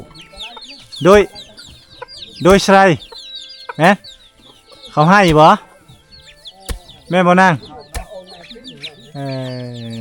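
Chickens cluck and squawk in a forest village without electricity, in several loud, close bursts spread through the clip, while people talk nearby.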